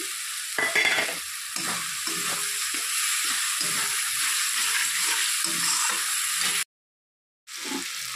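Chopped tomato stir-fried in a pan for a rohu-style fish curry, a steady sizzle punctuated by repeated scraping strokes of a spatula, close and lively, cut by a short silence near the end.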